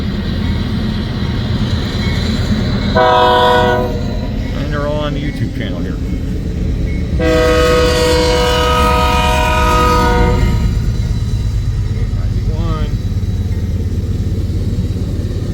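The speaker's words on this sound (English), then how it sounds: "I recorded this train coming in when the manifest went through, going east." An eastbound manifest freight train rolls through Sioux City and sounds its horn in two blasts, a short one and then a longer sustained one. A steady loud rumble runs underneath, and a person talks over it.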